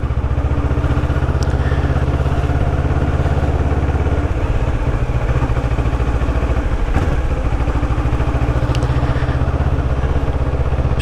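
A CF Moto 650NK motorcycle engine pulls steadily in second gear at low speed, a loud continuous mid-pitched drone with a throbbing low rumble and faint wind noise throughout, heard from the rider's position.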